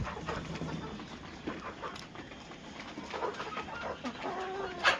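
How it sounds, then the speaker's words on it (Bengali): Several hens on a farm cluck and chatter restlessly while waiting for a late morning feed, a steady murmur of overlapping calls close by with occasional louder squawks. "এই মুরগিগুলো মানে খাওয়ার দিতে সকালে একটু লেট হয়ে গেছে তো খাওয়ার জন্য কেমন করছে এরা"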